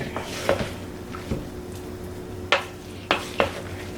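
Veggie fritter batter of grated potato and flour being stirred by hand in a bowl, with a few sharp scraping clicks from the spoon against the sides over quiet background hum.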